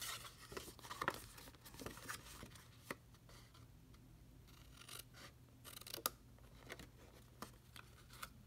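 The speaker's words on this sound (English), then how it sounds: "I'd like you to cut that little rectangle down at the bottom completely off." Scissors snip through Bird Ballad designer series paper as a 6-inch treat bag is trimmed, giving faint, close, irregular crisp cuts and rustles with no talking.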